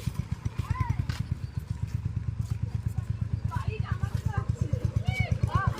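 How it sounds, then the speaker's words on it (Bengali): Royal Enfield Bullet motorcycle being ridden nearby, its single-cylinder engine thumping in a steady, even beat throughout, with occasional high squeals above. "দেখো আমাদের নায়িকা ম্যাডাম বাইক চালাচ্ছে, বুলেট বাইক"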